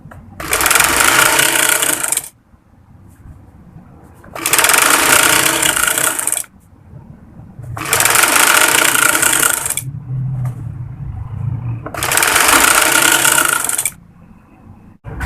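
Sewing machine stitching a frock seam, four loud sustained whirring runs of a few seconds each separated by short pauses, close and alone with no talking.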